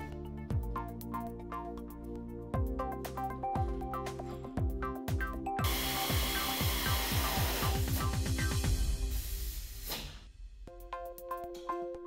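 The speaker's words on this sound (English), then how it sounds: "then bolt your lower bars in place" Suspension lower bars being bolted onto a GM S10 truck: a series of sharp metallic clanks and rapid ratcheting clicks, followed by a buzzing power-tool burst, then ringing metal taps near the end.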